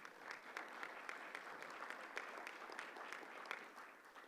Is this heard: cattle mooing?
no